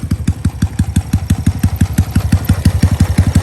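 A Honda Wave 110i motorcycle engine with a four-valve head idles close by with a steady, rapid, loping putter of evenly spaced pulses and no talking.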